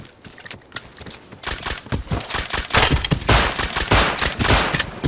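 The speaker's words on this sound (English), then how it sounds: "Is he shooting at that guy?" Rapid gunfire in the survival game Rust, a near-silent second before bursts of sharp automatic shots pile up loud and close, continuing steadily to the end.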